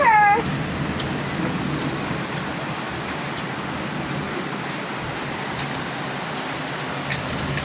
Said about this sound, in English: It's raining very heavy today